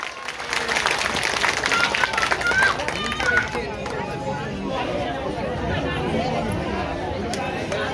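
Audience clapping for a children's dance performance at a large 14 April Ambedkar Jayanti community event in Jahangir Puri: sustained, dense applause with crowd chatter mixed in, steady and fairly loud throughout.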